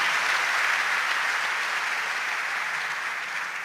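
A large audience at a Hindi poetry gathering on the West Bengal election gives steady, dense applause. The wash of clapping holds at an even level and fades slightly at the end, with no talking.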